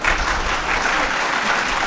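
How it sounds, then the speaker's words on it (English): Students in a university audience clap together, a dense, steady burst of applause from a full room that carries on without pause. "So, all the students are clapping."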